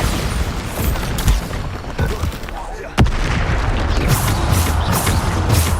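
Bombarda blast spells in Hogwarts Legacy going off amid a busy magical fight, with dense booming and crackling, and one sharp loud explosion standing out in the middle, all close and continuous.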